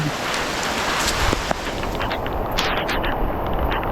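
Rainwater flows through a freshly dug canal in a string-bean field during continuous rain, a dense, loud wash of rain and running water with a few sharp knocks.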